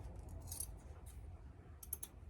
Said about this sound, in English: we're going to cut just a small piece of felt